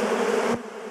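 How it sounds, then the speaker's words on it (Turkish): Honeybees swarming out of a hive frame make a dense, loud buzzing hum that drops off abruptly partway, leaving a softer, steady drone. "Arı tamamen Şiraza'dan çıkmış durumda."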